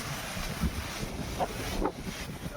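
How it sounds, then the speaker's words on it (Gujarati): Strong wind gusts across an open farm field during pesticide spraying, a steady low roar of wind buffeting the microphone with a few brief rustles and bumps. "અત્યારે પવન એટલો બધો હોય ને કે દવા અહીંયા છાંટવાનું બધે આમ ઉડી જાય"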